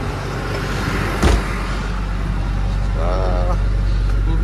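An Isuzu Forward truck's 6HK1 diesel engine idles in a steady low rumble, close by and continuous, with a brief knock partway through.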